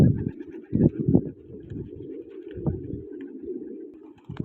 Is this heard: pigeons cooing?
yes